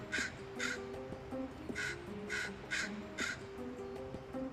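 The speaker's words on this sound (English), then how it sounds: "To many, just the tentative scold of one young crow." A young crow gives a series of hoarse caws, about six evenly spaced calls over a few seconds, moderately near against a faint outdoor background.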